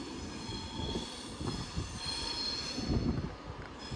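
An Avanti West Coast train runs empty out of London Euston toward Wembley depot, giving a steady loud rumble of wheels and carriages with a high metallic squeal running through the whole passage.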